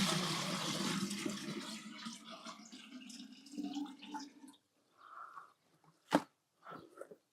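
Fresh water runs from a garden tap or hose, a loud rushing flow at first that thins to trickles, drips and a few sharp splashes as it tails off.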